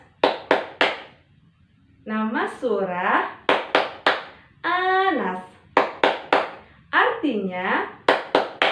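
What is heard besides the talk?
rhythmic hand clapping with chant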